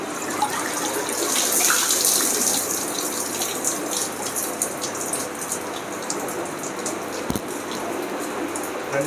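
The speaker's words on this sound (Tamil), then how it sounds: "இது இப்படி கீழே இருந்து தண்ணியை இழுத்து மேலே இந்த ஹோல்ஸ் வழியாக போயிட்டு தண்ணி எல்லாமே ஸ்பாஞ்சை தாண்டி வரும்" Water moving steadily through a homemade aquarium sponge filter, a continuous close trickling and splashing wash that holds level for the whole stretch with no voices.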